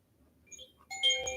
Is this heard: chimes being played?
yes